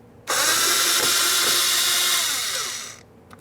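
A power drill runs in one steady, loud burst of about three seconds while backing out the lower fender liner screws on a 2005-2010 Dodge Dakota, then winds down and stops.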